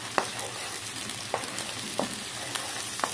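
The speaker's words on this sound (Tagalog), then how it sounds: "Gisa na tayo ng sibuyas, bawang luya." Onion, garlic and ginger sauté in a hot pan for a Filipino pork and liver mechado, a constant crackling sizzle broken by a few sharp clacks of a spoon or spatula against the pan.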